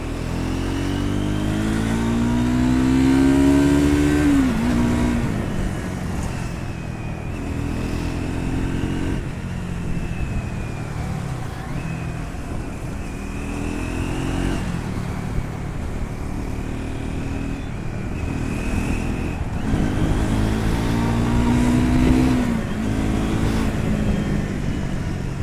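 Triumph Scram 400 motorcycle accelerating hard toward 100, its engine rising loudly through the gears in sustained, close-up surges with brief dips at the shifts.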